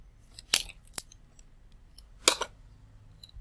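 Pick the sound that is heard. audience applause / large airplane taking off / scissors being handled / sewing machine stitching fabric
scissors being handled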